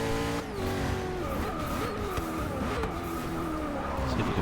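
In a racing video game, a Koenigsegg Agera police car on the Sebring short circuit brakes and turns: a continuous roaring engine with shifting pitch and squealing tires, loud and unbroken throughout.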